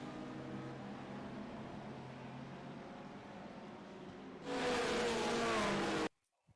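GT3 race car engine at Road America in iRacing, a steady droning run that jumps abruptly to a louder, brighter roar near the end before cutting off.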